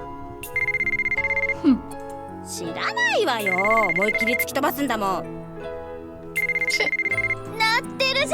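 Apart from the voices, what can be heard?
mobile phone ringtone ringing, from a video game (White Album 2)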